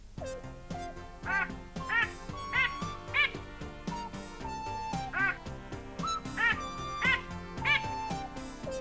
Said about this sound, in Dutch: Het is mama eend.